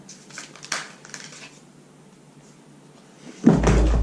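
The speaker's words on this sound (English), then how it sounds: "Knocking over oracle cards." Oracle cards knocked over and clattering onto a surface, a sudden loud tumble near the end after faint rustling and handling.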